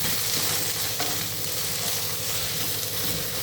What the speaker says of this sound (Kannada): ಒಂದು 5ರಿಂದ 10 ನಿಮಿಷ ಎಣ್ಣೆಯಲ್ಲಿ ಈ ಥರ ಫ್ರೈ ಮಾಡ್ಕೋಬೇಕು.